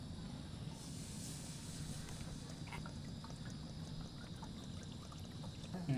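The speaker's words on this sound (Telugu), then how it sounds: "ఇప్పుడైతే మనం వాటర్ పోసుకుందాం" Water is poured steadily into a pan for pasta at a rooftop campsite, making a faint, continuous splashing rush with no speech.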